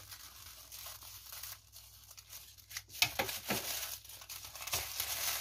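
Quiet crinkling and tearing of an AliExpress package as it is carefully opened to get at a notebook, with soft plastic rustles and a few sharper rips close by.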